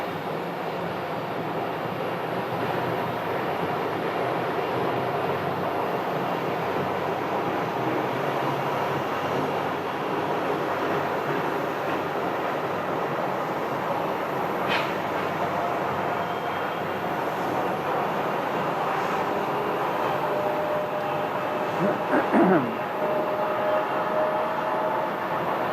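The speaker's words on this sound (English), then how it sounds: "And the CRJ starting up." A CRJ regional jet's engines start up at an airport, a constant broadband roar with a thin high-pitched whine, steady for the whole stretch, with a few faint passing tones near the end.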